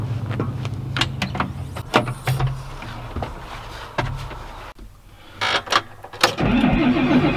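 A large tractor engine cranks with clicks and clunks, then turns over and catches into a loud, steady idle close by.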